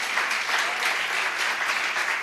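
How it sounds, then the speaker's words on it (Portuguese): A church congregation applauds in a steady, dense wash of clapping that stays fairly even and close throughout, with no voices standing out. "Você pode aplaudir ao Senhor pela palavra de Deus?"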